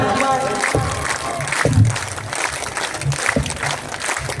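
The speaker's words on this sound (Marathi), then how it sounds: "मग आता ताला सुरात तुमच्या टाळ्या पाहिजे त्या बाबासाहेबांसाठी." An audience at a live song performance on university day, honouring Babasaheb, claps along in rhythm. The sharp, regular claps sit under a singing voice and music.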